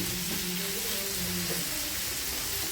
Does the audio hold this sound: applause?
no